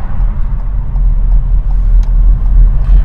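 A car pulls away uphill in first gear with a steady low engine rumble, loud and close from inside the cabin, continuous with no talking.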